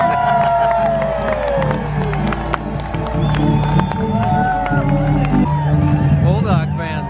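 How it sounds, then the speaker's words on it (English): Crowd along the Rose Parade route in Los Angeles cheering and shouting for a passing John Deere farm float, with nearby voices talking over the steady din and whistles rising and falling. "every 200 feet we get a big cheer"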